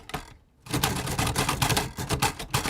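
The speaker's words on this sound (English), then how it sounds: "It just sounds like a lot of very loud, almost typewriter sounds." Braille writers clack loudly and rapidly at a Braille Challenge competition for blind and low-vision contestants, many keys striking in dense overlapping bursts after a brief pause near the start.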